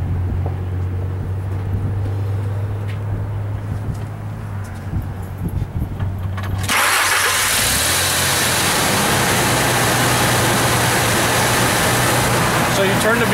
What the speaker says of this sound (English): turn the vehicle on